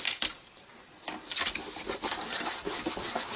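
Paper being burnished flat onto a mini album base, heard as soft, close rubbing strokes: a few separate swipes at first, then quicker continuous scraping that grows steadier and a little louder, with no talking.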